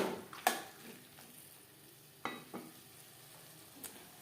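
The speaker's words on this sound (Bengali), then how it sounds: "কাঁচা গন্ধ যাওয়া পর্যন্ত নাড়াচাড়া করে নেব।" Tomato paste being stirred and fried in a pan while making chicken chow mein: soft sizzling under several sharp spatula scrapes and clatters, quiet and close.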